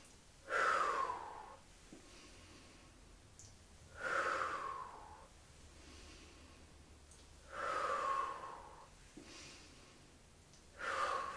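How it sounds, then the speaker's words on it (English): Audible breaths during a pelvic floor dead bug exercise, with opposite arm and leg moving and returning: four strong, close rhythmic exhales spaced about three seconds apart, with quiet pauses between them and no talking. "nice audible breath helps the focus"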